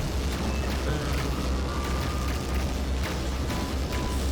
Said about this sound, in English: Because of the explosions.